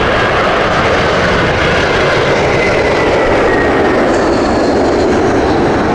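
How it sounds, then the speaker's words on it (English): A British Airways Airbus A321 roars at Heathrow in strong crosswinds, a loud continuous broadband jet rumble and hiss that holds steady throughout, with no voices. "this time Airbus A321 for British Airways"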